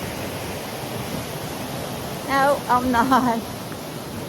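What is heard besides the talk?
river flowing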